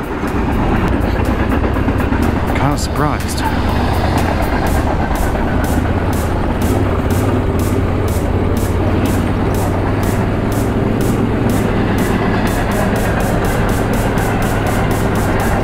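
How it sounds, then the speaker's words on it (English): A short train rolls past in the Nevada backcountry, a loud steady rumble with rhythmic clacking of wheels over rail joints running the whole time, close by, while a person speaks briefly. "It's not a very long train."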